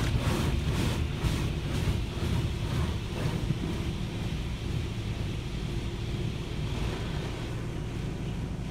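Automatic car wash rinse cycle with water jets spraying over a car, a loud continuous rushing hiss heard from inside the vehicle, pulsing slightly as the spray passes, with no talking.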